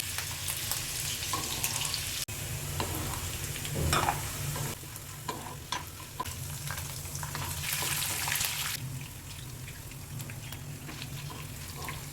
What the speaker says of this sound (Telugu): ముందు వేరుశనగ గుళ్ళు వేగిన తర్వాత అప్పుడు జీడిపప్పు కూడా వేసి ఫ్రై చేసి